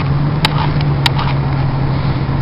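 A lifted 1996 Ford F-150 idling after a cold start, a steady low engine hum running continuously and fairly loud, with a couple of brief sharp clicks near the start.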